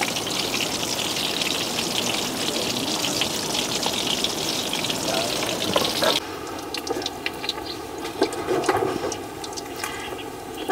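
Fish cooks in a pan of boiling water for Vietnamese sour soup, a steady gushing, bubbling rush that turns into lighter, clearer bubbling and splashing partway through.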